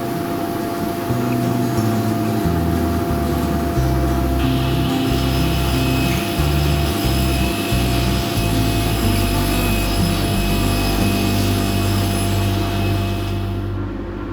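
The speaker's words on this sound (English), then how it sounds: "Each of the side panels requires a 7-degree taper to be cut." A power saw cuts 7-degree tapers into wooden bookshelf side panels, making a loud, continuous whining roar whose pitch shifts as it works through the wood, then cuts off abruptly at the end.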